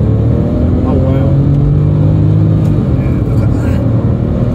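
A Porsche 997 911 Turbo with a manual gearbox drives along, its engine giving a loud, steady rumble from inside the car that runs through the whole stretch.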